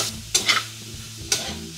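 Tomatoes fry and get stirred in a pan while cooking pork binagoongan, giving a steady low sizzle broken by three sharp scraping stirs, close and fairly loud.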